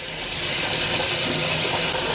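Water rushes steadily into a newly installed toilet as it fills, a loud, even hiss that runs unbroken throughout.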